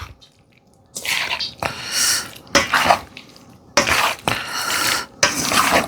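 Gizzard being mixed by hand with chilled butter in a bowl: a series of wet, squishy slapping and scraping bursts, each lasting about a second, close and fairly loud with short pauses between.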